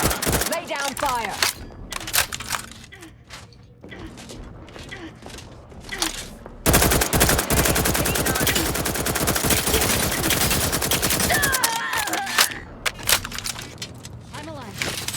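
Video game gunfire in The Outer Worlds 2, with scattered shots and short bursts, then a long sustained rapid-fire stretch of automatic weapons in the middle, plus sporadic shots afterward, mixed with voices talking throughout.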